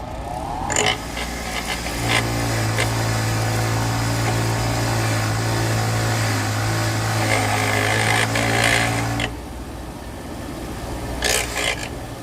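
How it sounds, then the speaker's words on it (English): A bench wire wheel spins with a steady whirring hum while spark plug threads are pressed against it, adding scratchy brushing grit, then spins down after about nine seconds and briefly starts scraping again near the end. "clean these threads off so they don't have all this grit in them. Wire wheel works good."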